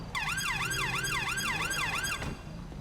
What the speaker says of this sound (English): put the sirens back on